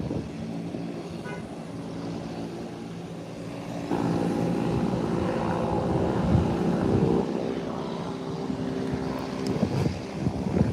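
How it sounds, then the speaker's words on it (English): A Delta Boeing 737 arriving from Atlanta makes a broad engine rumble that swells noticeably partway through and then holds as a loud, sustained roar. "Boeing 737 out of Atlanta should be here anytime now."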